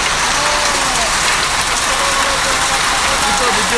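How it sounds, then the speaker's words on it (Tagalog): Hail pelting and bouncing off surfaces in Abha, Saudi Arabia: a dense, loud, steady clatter of ice pellets splashing, continuous throughout, with voices talking over it. "Ngayon nagtatalsika yung yelo ah"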